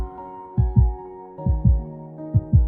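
A heartbeat in the video game Love and Deepspace, three paired lub-dub thumps at a slow, even pace, loud and close over a soft sustained musical tone.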